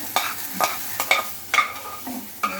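Bottle gourd pieces fry in oil in a pan for chutney, a soft continuous sizzle punctuated by sharp, repeated scrapes and knocks of a ladle stirring every half second or so, close and clear without talk.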